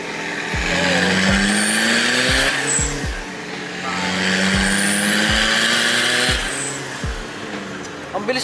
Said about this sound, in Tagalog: Mabilis umangat ng RPM niya